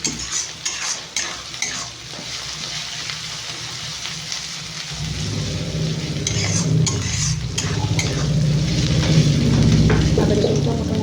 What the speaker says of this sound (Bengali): আদা রসুনটা মোটামুটি ভাজা হয়ে গেছে।